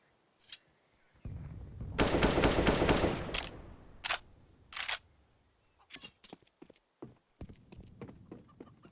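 Pistol gunfire from a Counter-Strike match on the Inferno map, played in a pro qualifier between Virtus.pro and BIG: scattered sharp shots and short bursts in clusters, with a dense stretch of firing early and sparser reports toward the end.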